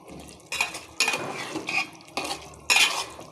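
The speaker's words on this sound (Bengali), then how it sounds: "আগে গোস্তটাকে ভালো করে কষিয়ে নিব" Meat being browned for biryani in a pot, stirred with metal utensils scraping and clinking against the pot in several bursts, with a light sizzle underneath; close and fairly clear, no talk.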